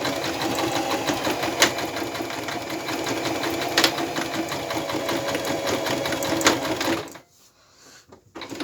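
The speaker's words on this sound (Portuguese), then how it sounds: "Posicionei aqui no início e vou costurar, então." A sewing machine stitches the handle of a fabric eco bag, running in a steady fast rhythmic chatter for about seven seconds before stopping abruptly, leaving a couple of faint clicks.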